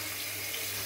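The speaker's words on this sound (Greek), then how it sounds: "ας πούμε, λίγο ζεστό νερό, μέτριο θα λέγα, έτσι να το ξεπλύνω" Warm tap water runs in a steady, dense splashing stream while a shaving brush is rinsed under it; close and continuous, with no voices.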